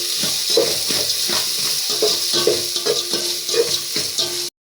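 Potato pieces sizzling in a pan with salt for potato rice, a steady loud frying hiss broken by regular scraping stirs, close up with no talk.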